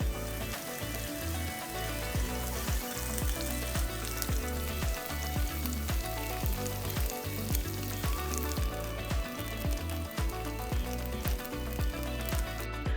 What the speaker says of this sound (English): So I add a little bit of oil to the pan and got that heated up on medium-high heat. And we're just gonna sear them on both sides